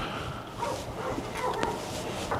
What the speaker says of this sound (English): Okay, the dogs are barking now.